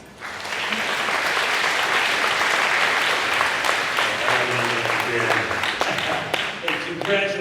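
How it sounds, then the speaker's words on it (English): Loud, sustained applause from a large community salute ceremony audience welcoming a speaker to the podium, a thick wash of clapping with faint voices and a brief tonal sound emerging underneath toward the end. "Let's give him a round of applause."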